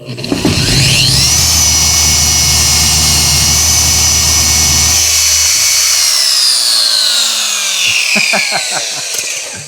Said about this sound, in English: So I still use this polisher, and I try to use it on flat surfaces